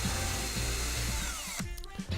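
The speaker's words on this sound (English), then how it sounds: "now just need to drill the 4 holes exactly where the new brackets are" A handheld power drill bores holes into the wood of a drawer front, its motor whining loud and close, then stopping abruptly, leaving clattering handling noise.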